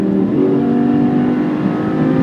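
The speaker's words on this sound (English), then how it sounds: "They've managed to get the perfect balance for sound of the growl of that engine with the speed." A Lamborghini Superleggera engine growls loudly and continuously from close by, holding a deep, steady rumble with a slight rising rev and no voices over it.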